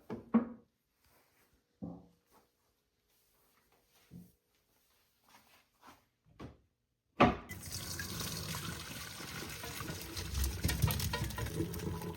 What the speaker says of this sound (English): And then we're gonna rinse it with cold water.